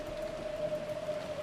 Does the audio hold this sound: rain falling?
yes